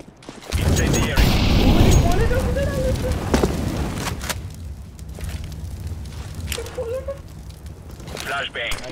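A flashbang grenade in Counter-Strike: Global Offensive goes off with a loud, sharp burst, followed by a few lighter thuds and cracks while a player talks over the action.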